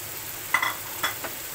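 Fried fish added to a pan of crushed tomatoes, giving a quiet, steady sizzle with a couple of brief scraping stir sounds on top, close and low in level, with no talking.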